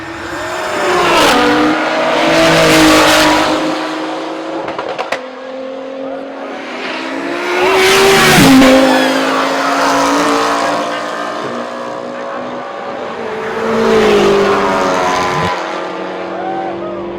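Race cars on a drag strip at sunset, their engines rising and falling in three long revving passes with a steady rumble between them, fairly loud and close.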